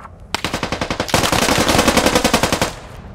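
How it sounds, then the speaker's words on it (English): Machine gun in the tactical shooter game Squad firing a long automatic burst of rapid, evenly spaced shots, loud and close, that ends abruptly after about two and a half seconds. "Tell the MG to stop firing at us."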